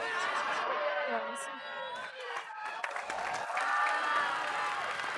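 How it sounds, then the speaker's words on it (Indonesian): A studio audience at an Indonesian comedy show claps and cheers in bursts, the crowd swelling and dipping while voices talk over and between the applause. "Tepuk tangan sekali lagi buat Mumu Gomez"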